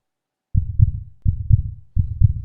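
Heartbeat sound effect from the sci-fi thriller trailer Eternal Code: three loud, deep lub-dub double thumps in a slow, even rhythm after a moment of silence.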